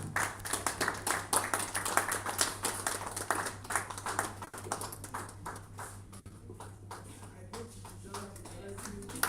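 A seated audience applauds after a public presentation of a legal-policy report, with dense, steady clapping that fills the room and slowly thins toward the end while voices talk underneath.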